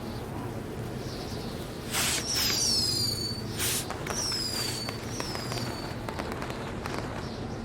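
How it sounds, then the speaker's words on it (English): Fireworks going off in the WWE 2020 video game, several whistling bursts and crackling pops spread over a few seconds against a steady background rumble. "either way, we'll get to see some cool fireworks"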